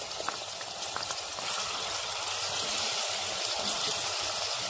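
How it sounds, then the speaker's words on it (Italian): Chopped celery hits hot oil for an Italian soffritto and sizzles in a loud, steady, close crackle of frying that fills the whole stretch without pause or voices. "Lascio profumare l'olio leggermente, appena un minuto, e proseguiremo il nostro soffritto."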